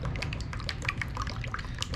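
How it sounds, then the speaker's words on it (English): Used engine oil from a 2004 Sea-Doo GTX 4-Tec supercharged jet ski pours into a measuring container, a close, thick, continuous gurgling stream with small splashes and drips. "So I take the oil that I got out of it and just pour it into a measuring."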